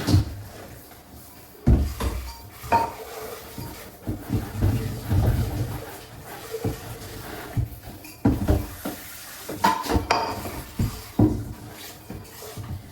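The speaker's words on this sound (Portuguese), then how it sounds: "Nunca mais eu parei de lavar louça." Dishes, pots and cutlery being washed at home give irregular clatters, knocks and scrapes that come and go for about thirteen seconds, with no talking.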